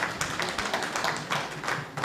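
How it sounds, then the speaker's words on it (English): Audience applause at a committee meeting ahead of a presidential tour in Lango sub-region: a few seconds of steady, moderately loud clapping from a small crowd, with no talking over it. "Let's clap for her."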